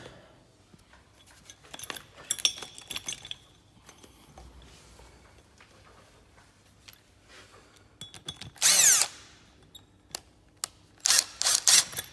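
A cordless impact driver tightening a socket under a sink trap, with short loud bursts of hammering drive separated by clicks, handling clatter and quiet pauses.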